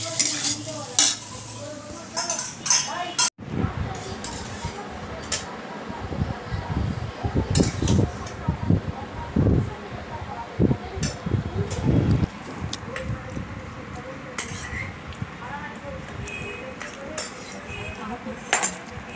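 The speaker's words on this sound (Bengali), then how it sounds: "একটু মাংস, একটু চিংড়ি মাছ ছিল, অল্প করেই ভাজছি মেয়ের জন্য।" Rice frying in a pan with a little meat and shrimp, a spatula scraping and stirring in bursts over a steady close sizzle, with clinks of metal on the pan.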